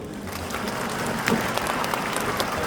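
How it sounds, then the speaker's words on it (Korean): Audience clapping in thanks at a Korean church prayer gathering and press statement, a brisk continuous round of applause throughout the short stretch, fairly loud and close. "감사 박수드립니다"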